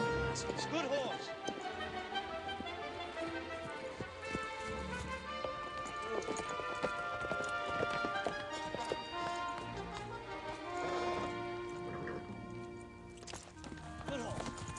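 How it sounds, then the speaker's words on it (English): A stallion being ridden, hooves clip-clopping steadily through a dense mix of music and voices, with people talking over the hoofbeats throughout. "That's a fine stallion you're riding."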